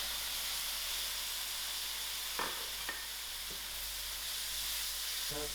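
An old tomato is thrown into a hot pan with garden green chilies while tomato rice cooks. A loud, steady frying sizzle hisses throughout, broken by a few soft clicks and light knocks.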